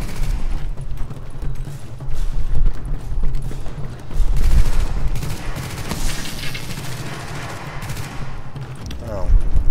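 Rapid gunfire in a shooter game with a custom tactical loadout, sustained bursts crackling loudly and nearly continuously, with someone talking over the shooting.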